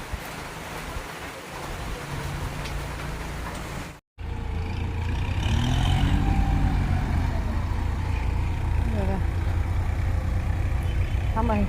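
A tractor engine rumbles past nearby, its low drone swelling after a brief cut, with steady heavy rain hissing throughout.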